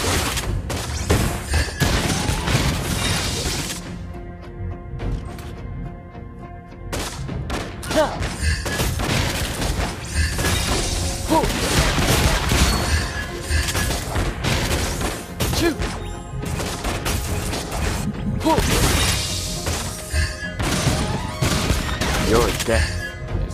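Granger's gunshots in the mobile game Mobile Legends: dense, loud bursts of rapid shots and booming impacts under game music and effects, with short quieter gaps between volleys.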